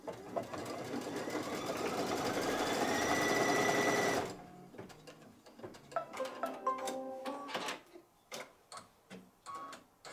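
A machine-embroidery sewing machine works a blanket stitch around a quilt appliqué, a loud, fast, steady whirring run for about four seconds, then slows into separate ticking, clacking stitches and pauses.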